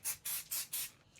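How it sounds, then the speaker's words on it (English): Makeup fixing spray misted onto a face in four quick, evenly spaced hissing bursts, close and crisp, with a softer short spritz at the end. "Also give it a bit of a spray with the fixing spray."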